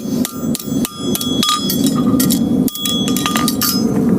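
A farrier fullering a horseshoe strikes it with a hammer in quick, loud, ringing metallic blows, each sharp clink following close on the last in a steady working rhythm near at hand.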